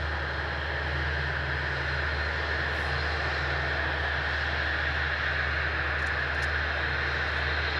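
Airplane touching down on an airfield runway, heard as a steady, distant broadband engine roar and rush that holds evenly throughout without voices.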